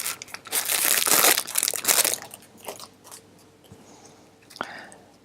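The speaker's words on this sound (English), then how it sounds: "You grab the packing and you simply tear the packaging." Packaging of a KRUUSE Vetflex bandage is torn open, giving loud, close crinkling and ripping crunches in a dense cluster, then quieter scattered rustles and one sharp snap near the end.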